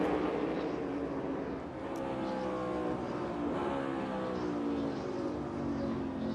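NASCAR stock cars racing side by side for the lead at Sonoma in the Toyota/Save Mart 350, a dense, continuous roar of engines with layered rising and falling engine tones, fairly distant and steady throughout.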